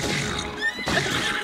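A horse neighs and whinnies in Zelda: Tears of the Kingdom, one loud, close call with game sounds beneath.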